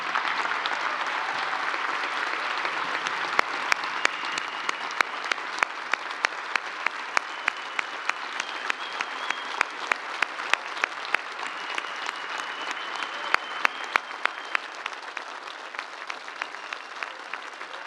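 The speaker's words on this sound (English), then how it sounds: "Let's give these families another round of applause." An audience gives a long, steady round of applause for the families of newly selected NASA astronauts, dense clapping sustained for nearly eighteen seconds at moderate level with occasional sharper individual claps standing out.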